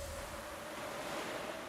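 Waves washing onto a shore in the video game Tales of Berseria, a steady soft surf wash with a faint wind-like hiss, even and continuous, with no talking.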